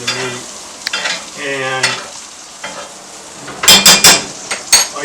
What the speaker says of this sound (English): cooking it with this boiling oil, basically, this hot butter, as well as from the bottom of the pan into the bottom of the meat